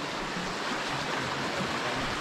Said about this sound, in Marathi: लिंगे घाटाच्या भागामध्ये फिरताना अशा असंख्य तुम्हाला प्रवाह मिळते